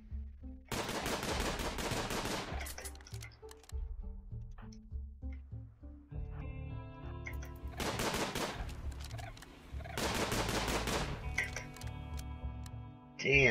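Automatic gunfire in the video game RimWorld, several long rattling bursts of rapid shots separated by brief pauses, loud and up front with game sounds between the volleys.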